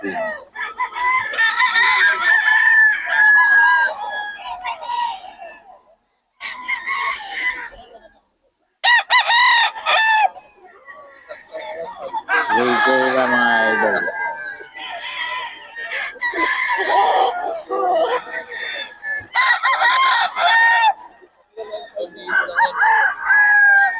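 Gamecocks, bullstags, at a festival expo crow repeatedly with loud, drawn-out calls, interspersed with clucking and crowd noise in a busy open setting.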